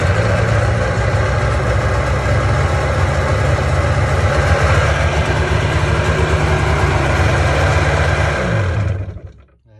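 An old two-stroke jet ski engine runs loudly and steadily at a rough, buzzing idle, close by, then cuts off abruptly at the end.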